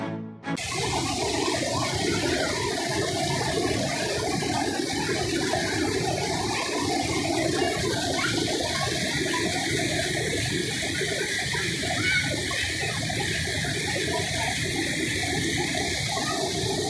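Rushing floodwater of the Kozhikarai river in the Kotagiri hill forest of the Nilgiris, Western Ghats, heard while wading into it: a loud, steady, close roar of churning water that runs unbroken after a brief start, with no talking.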